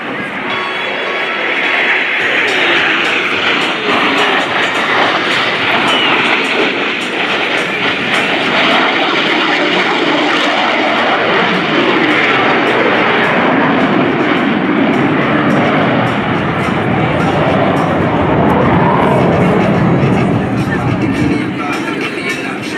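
US Navy Blue Angels jets crossing in an opposing knife edge pass at an air show, a loud, sustained roar of jet engines that swells and holds for the whole stretch.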